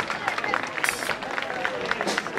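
Audience applause at an opening ceremony in Venosa as a music group takes the stage: dense, steady clapping from a crowd, with cheering and voices through it.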